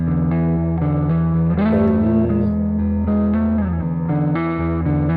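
Sung voice run through a heavily processed reverb and distortion effect, sustained harmonic tones sliding in pitch with a dense, washed-out tail throughout.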